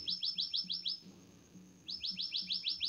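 Small birds chirp in a quiet village in rapid bursts of bright repeated tweets, pause for a moment, then start again, over a faint low background hum.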